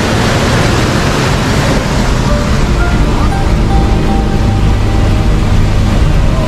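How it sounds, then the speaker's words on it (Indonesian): Fast-flowing river floodwater surges through a flooded village toward the houses, a loud, steady rushing roar that fills the whole stretch without a break. "Deras airnya guys."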